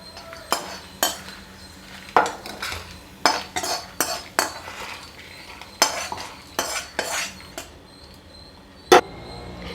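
Metal utensil scraping and clinking against a pan in irregular bursts, with a faint dry sizzle underneath as something is stirred and toasted.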